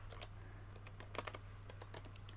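Rapid clicking keystrokes on a computer keyboard whose shift key is still sticky from spilled coffee, tapped in an irregular close burst over a steady low hum, with no talking.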